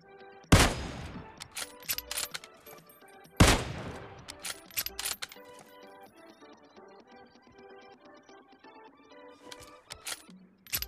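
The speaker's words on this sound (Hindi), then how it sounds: "फिर अब उसे हम कार 98 से मारने की कोशिश करते हैं" In a shooting video game fight inside an apartment, a Kar98 rifle fires two sharp, loud single shots a few seconds apart, with softer clicks and small in-game sounds around them.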